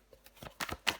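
A tarot card laid down over the five of swords, giving a few soft papery slaps and slides with brief gaps between them, close and quiet.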